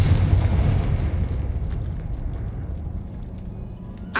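A Confringo spell from Hogwarts Legacy blasts with a loud low boom at the start, then a long rumbling decay that fades, with a sharp crack at the very end.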